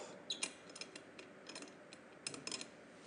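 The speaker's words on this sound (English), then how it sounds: "you're just taking the L wrench here and untightening it." L wrench loosening a bolt on a Segway, giving a few faint metallic ratcheting clicks and taps in short bursts, close by and quiet against a low background hiss.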